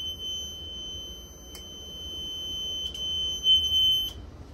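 A fire alarm control panel with zone two still in trouble sounds its trouble buzzer: a steady, piercing electronic tone holding without a break, with a couple of faint clicks, then cutting off near the end.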